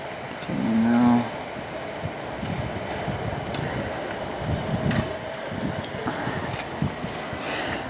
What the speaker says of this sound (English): there's a train pulling out now.